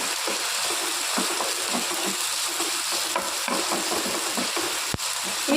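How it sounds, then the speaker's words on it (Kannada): Sliced onions fry and sizzle steadily in oil in a pan while being stirred, with repeated soft scraping strokes and a sharp clack near the end. "ಈರುಳ್ಳಿ ಹಸಿ ವಾಸನೆ ಹೋಗೋ ತನಕ ಇದನ್ನು ಫ್ರೈ ಮಾಡುವ."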